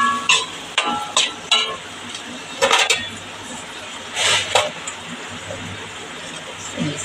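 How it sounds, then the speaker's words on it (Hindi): Spices fry in a pan for a pasta dish while being stirred, with soft sizzling under scattered clinks and scrapes of a spoon against the pan, close by. "तो मसाले को भून लेंगे इसमें।"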